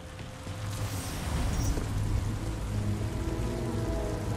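Steady rain falls in the Titanfall 2 video game, a dense, close hiss of drops hitting surfaces that continues without a break, with a low rumble underneath.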